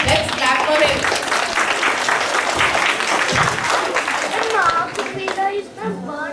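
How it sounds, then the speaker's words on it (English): An audience at a Republic Day school assembly breaks into loud, sustained clapping, with children's voices chattering through it before it thins out near the end. "Let's clap for it."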